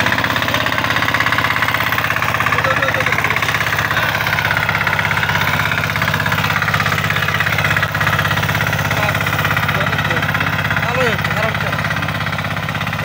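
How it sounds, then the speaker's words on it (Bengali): A four-wheel mini power tiller runs in a field, its engine chugging in a loud, steady, unbroken drone close by, with voices faintly under it. "তার মাঝে আমাদের পাওয়ার টিলার চলতেছে।"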